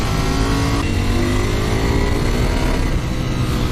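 Ducati Panigale V4S motorcycle riding on an open road, a loud steady engine roar with wind rush pressing close throughout, pitch shifting slightly as it pulls.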